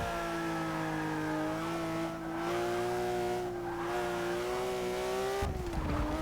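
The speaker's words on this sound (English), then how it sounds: "Truly great sounding engine." A Porsche track car engine in the video game Forza 6 holds a steady, high droning pitch, dipping briefly twice, then a sharp shift in tone as it revs near the end.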